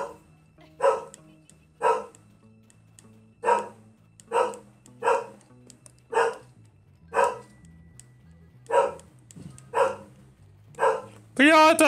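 Dog barks in the video game Bully, about a dozen loud sharp barks at a steady rhythm over a low droning game soundtrack, ending in a brief high whine.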